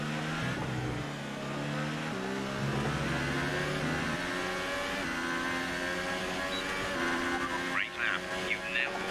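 A McLaren Formula 1 car's engine drones and shifts pitch through gear changes while racing at the British Grand Prix in F1 2018, a steady high whine with speech over it.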